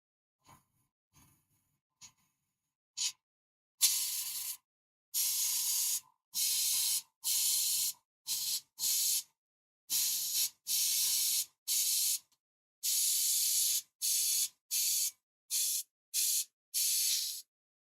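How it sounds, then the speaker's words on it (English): Clear varnish is sprayed from an aerosol can onto painted figure arms in a series of short, sharp hissing bursts, close and evenly spaced, with silence between them and no talking. "I'm going to give a clear coat of varnish on these really quick."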